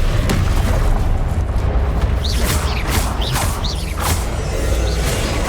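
Confringo blasting spells detonate in Hogwarts Legacy combat, several booming bursts with whooshing streaks landing one after another over a dense, loud background of battle noise and spell effects.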